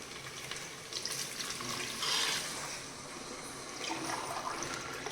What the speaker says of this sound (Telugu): 4 గ్లాసులు వాటర్ పోసాను నేను.